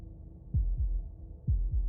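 Two low, thudding heartbeats sound in Slay the Princess, each a quick lub-dub pair, deep and muffled against a faint hum, with a steady pause between them.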